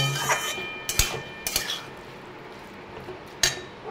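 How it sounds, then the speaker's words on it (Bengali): Chana potol is being stir-fried in a pan, giving sharp metallic scrapes and knocks of a spatula against the pan at irregular intervals. Under them runs a low, steady sizzle, all close by. "ভালো করে এটাকে কষিয়ে নেব।"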